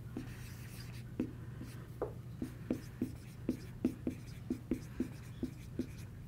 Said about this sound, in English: I'm going to write over here just because I'm running out of space.